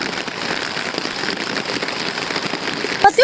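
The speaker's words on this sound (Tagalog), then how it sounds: "sobrang lakas talaga ng ulan" Heavy rain pouring down steadily, a dense, loud hiss of drops hitting surfaces that stays constant throughout, with a brief sharp noise near the end.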